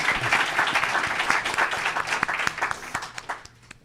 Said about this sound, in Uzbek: Iltimos, uni ham qarsaklar bilan kutib oling.